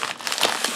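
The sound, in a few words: plastic slime packaging being opened, crinkling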